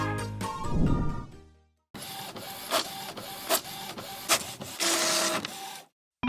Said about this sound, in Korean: 이 프린터를 이용해서 파티 준비를 해볼까?